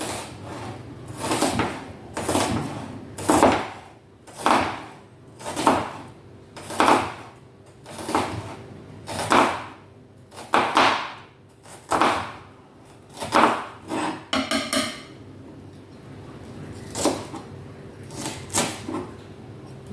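A knife chopping vegetables into small pieces on a cutting board while preparing hot dogs: a steady series of distinct knocking cuts, close and moderately loud, with brief pauses between strokes.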